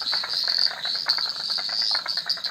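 Dense chorus of pond frogs at night, a steady high trilling drone with rapid pulsing calls overlapping continuously, close and fairly loud with no talking.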